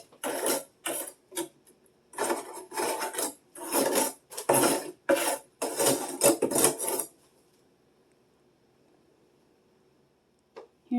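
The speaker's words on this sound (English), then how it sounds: "Scrape it on out" Frost is scraped out of a freezer in repeated rough, rasping strokes, loud and close, in an irregular rhythm for about seven seconds before falling silent.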